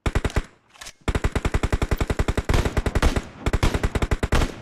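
An SKS rifle in the mobile game PUBG Mobile fires long, rapid, evenly spaced strings of loud close-up shots, broken by one brief pause near the start and a few short gaps between bursts.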